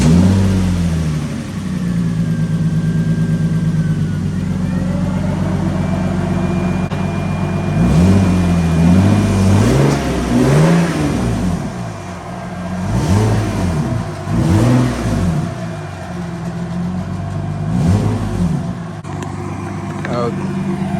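A Nissan S13 with a new body kit cranks briefly and catches, then settles into a rough idle before a series of sharp revs rise and fall, loud and close, with people talking underneath.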